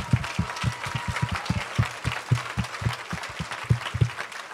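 A church congregation claps along in a steady, quick rhythm, fairly close and sustained, with a faint hum of voices behind it.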